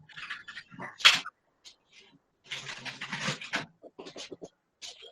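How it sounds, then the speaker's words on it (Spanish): Dogs barking outdoors, heard from inside a home during an online meeting, with a few sharp bursts and a longer stretch of yelps. Someone speaks in between the barks. "Usted escucha mucho esos perros"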